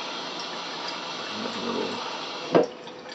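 A synthetic aoto sharpening stone being rinsed: a steady, close flow of water runs throughout, with a brief splash or knock near the end.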